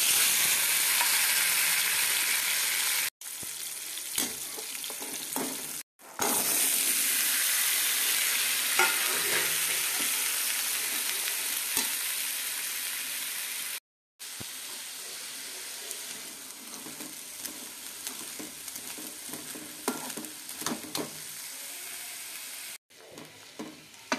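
Cumin seeds and black chickpeas sizzle and crackle steadily in hot oil while being stirred, a loud continuous frying hiss broken by a few brief pauses.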